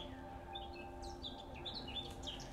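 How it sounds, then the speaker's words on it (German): Birds sing in the botanical garden in St. Gallen, a quiet scatter of high chirps and short tweets over soft background hum, without speech. "Auch hier pfeifen die Vögel wie verrückt."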